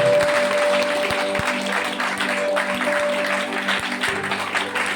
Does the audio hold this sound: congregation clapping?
yes